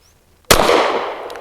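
A single sharp pistol shot from a BUL Armory Ultralight PRO firing Hornady Critical Duty 135 grain ammunition, loud and close, with a short ringing tail after the crack.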